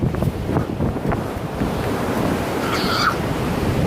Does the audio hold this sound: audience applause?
no